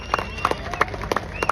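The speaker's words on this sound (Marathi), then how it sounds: "सगळ्यांनी टाळ्या वाजून या सर्व बॉडी बिल्डर स्वागत करा" A crowd claps in quick, uneven bursts to welcome bodybuilders onstage at the Swarajya Sena Shree 2025 bodybuilding contest in Shirdi, with a voice audible over the applause.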